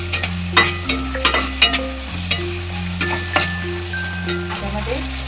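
A spoon clinks and scrapes while fried rice masala mixture is stirred in a hot pan for restaurant-style chicken fried rice, sharp metallic taps over a light sizzle, with steady tonal background music underneath.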